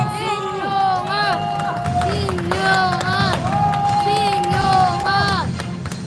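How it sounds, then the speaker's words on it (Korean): Crowd at a candlelight impeachment rally in Cheongju clapping and cheering as a speaker is welcomed, with rhythmic clapping under loud chanting and sung or amplified voices rising and falling over the noise. "박수!"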